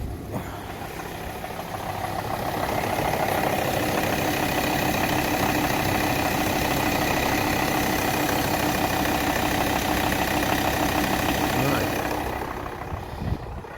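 A 2009 Volvo XC60 with the D5 2.4 diesel engine runs steadily at idle, a constant mid-pitched hum with faint knock that fades in and out at the ends, no talk over it.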